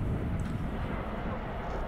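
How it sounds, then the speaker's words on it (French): A plane flies over the beach in the bay of Nice on its approach to Nice-Côte d'Azur airport, heard as a steady, broad low roar of jet engine noise throughout with no voices. "Un avion, est-ce qu'il va se crasher en mer?"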